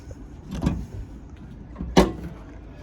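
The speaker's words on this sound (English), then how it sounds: "I'm just going to pop the bonnet here" The bonnet release on a Toyota RAV4 Edge gives two distinct mechanical clunks about a second apart, the second sharper and louder, against a quiet background.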